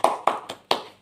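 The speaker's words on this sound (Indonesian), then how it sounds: "Oke, tepuk tangan." Four sharp hand claps from a class, evenly spaced about a quarter second apart, close and crisp with quick decays, no voices over them.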